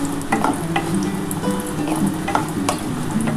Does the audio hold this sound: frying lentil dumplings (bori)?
yes